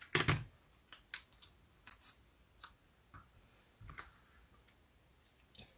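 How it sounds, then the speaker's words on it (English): Tape is pulled and pressed onto paper cards in a scrapbooking setup, giving a few faint scattered crackles and taps with one louder rip near the start. "let's just get some tape on that."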